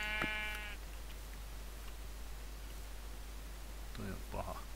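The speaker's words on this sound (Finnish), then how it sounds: "tuolla musta lammas, kaikki lampaat mulle" Two short bleats from sheep in the Minecraft video game: one near the start and a second a few seconds later, both faint beneath a steady background hiss.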